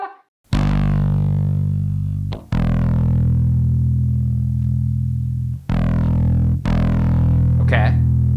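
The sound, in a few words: bass through Boss ODB-3 overdrive pedal, lowest distortion setting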